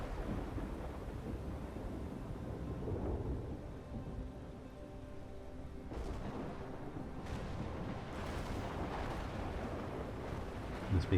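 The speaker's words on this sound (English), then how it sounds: "It's very stormy out there, isn't it?" Thunderstorm in the strategy game Total War: Warhammer 2, with rain and low rolling thunder, a few sharper cracks near the middle, steady and fairly loud with no talking.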